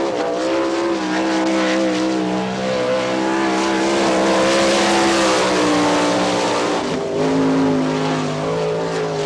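Number 94 All-Star Circuit of Champions sprint car from Huntsville, Ohio screaming through a qualifying lap at Wichita, Kansas, a loud, steady high-revving engine with pitch rising and dipping through the turns, no talk over it.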